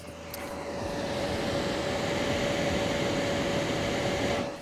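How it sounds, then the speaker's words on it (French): Two 80 mm cooling fans in an outdoor waterproof TV enclosure whir steadily at close range, a constant airy drone with a fixed tonal hum, alone and unchanging throughout. "il y a ces deux ventilateurs de 80 mm de chaque côté qu'on entend"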